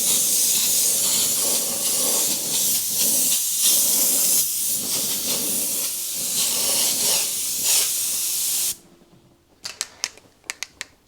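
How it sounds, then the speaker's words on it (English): An airbrush sprays a base coat of paint in a continuous loud, close hiss with slight surges, cutting off abruptly near the end, followed by a few sharp clicks. "I'm just going to get a coat on here, so we've got a nice base coat to work on"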